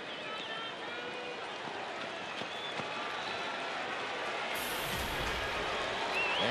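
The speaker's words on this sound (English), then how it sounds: "the crowd again throwing up that chorus of "Use."" Baseball crowd at a White Sox at Texas game, a dense, sustained roar of many voices chanting in chorus from the stands, filling the whole stretch with a steady wash of sound.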